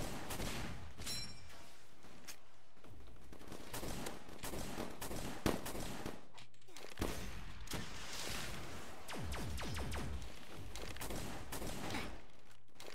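Video game gunfire, quiet but steady volleys of rapid shots with occasional sharper cracks, running as dense bursts through the whole stretch.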